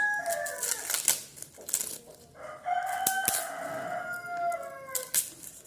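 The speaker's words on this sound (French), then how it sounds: "C'est mon coq qui gueule comme ça." A rooster crows loudly nearby, a long drawn-out call repeated twice, with sharp clicking and tapping noises scattered around it.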